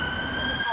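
A brief steady wail of a siren, its sustained tones holding over a background hum.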